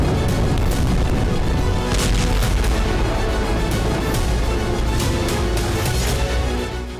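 Heavy missile and bomb blasts strike Kharkiv, a dense series of loud booms and rumbling impacts rolling on continuously with sharp bursts layered over a thick, roaring wash of sound.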